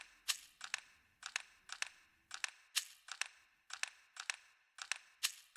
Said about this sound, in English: these two shakers right here, so together they sound like this.